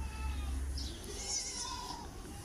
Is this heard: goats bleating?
yes